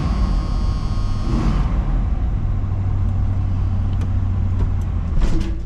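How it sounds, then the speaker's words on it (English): The engine of a 1977 Ford LTD station wagon, left abandoned in a junkyard for 17 years, runs with a steady low rumble and hum, while a high whine fades out early and a few faint clicks sound later. "Starts right up."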